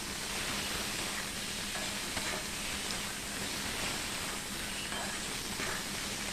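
Mushroom masala sautéing with salt in a pan, giving a constant dense hiss and sizzle with faint stirring scrapes throughout, fairly quiet and steady.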